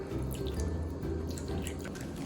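Water poured a little at a time from a 3/4-cup measure into a spiced batter mix for potato wedges, a steady close trickle and dripping running throughout with no speech.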